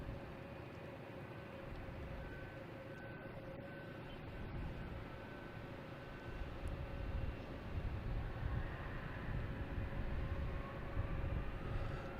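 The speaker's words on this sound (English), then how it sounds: "And here is the flight coming in from San Juan." Airliner on flight 162 from San Juan arriving at Boston Logan, a steady distant jet roar that builds slightly louder in the second half, with no talking.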